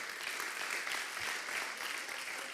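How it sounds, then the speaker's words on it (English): Sustained audience applause fills a conference auditorium after a talk at PyCon Greece, a steady dense clapping from a large crowd that holds evenly throughout. "Let's give a round of applause for Panagiotis"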